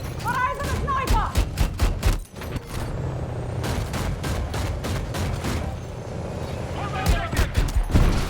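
A grenade launcher fires repeatedly in a first-person shooter: a string of sharp, heavy blasts, some rapid and some spaced apart, over a steady battle rumble, with a short lull midway and faint voice chatter.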